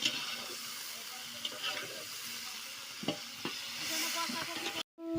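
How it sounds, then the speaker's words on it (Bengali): Cauliflower pieces lightly frying in oil give a steady close sizzle and hiss, with a few soft stirring clicks, cutting off abruptly just before the end. "এবার ফুলকপি ভেজে নেবো।"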